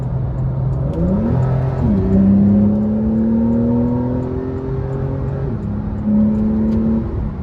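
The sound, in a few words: Porsche 911 Carrera 4S accelerating hard on interstate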